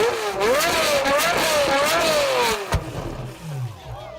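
A car engine, a tuned 7.3-liter Mercedes V12, revs loudly with a rising and falling wavering pitch, then drops away into quieter rumbling.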